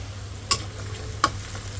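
Ginger-garlic paste fries in a pan over a low steady sizzle, broken by two sharp scraping stirs of a utensil against the pan, with no talking.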